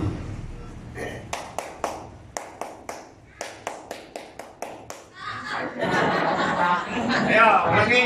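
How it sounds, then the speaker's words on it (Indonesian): Seminar audience at an article-writing workshop in an Islamic boarding school claps in unison, about thirteen sharp, evenly spaced claps, then breaks into laughter and chatter. "Tepuk tangan 13 kali."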